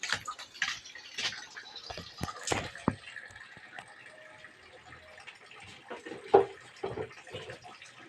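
Water trickles faintly into a jar, a soft, thin running sound broken by occasional light clinks and taps, quiet and close.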